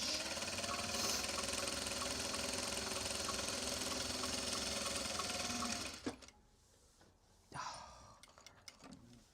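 A sewing machine runs steadily and loudly for about six seconds, back-stitching over a pocket on a Japanese fabric project bag, then stops, leaving faint handling noises and a brief rustle.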